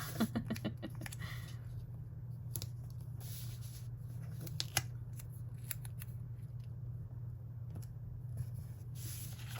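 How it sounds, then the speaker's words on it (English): Scissors trimming the edge of a planner sticker, a quick run of close, crisp snips at the start followed by a few scattered cuts and handling rustles over a steady low background hum. "And then I'm gonna trim that off the edge so my little checklist sticker isn't covered up."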